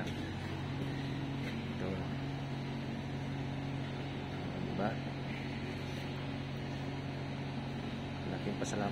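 Electric motors run at a water pumping station, a steady mechanical hum with tonal lines holding throughout, while a person talks over it close by.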